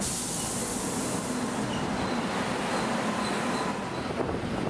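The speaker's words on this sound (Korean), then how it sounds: "역 플랫폼으로 기차가 지나가고 곧 전철이 들어왔다." A train rumbles past a station platform in Ulsan, followed by an arriving electric commuter train. A steady roar carries faint squealing wheel tones, and no voices are heard.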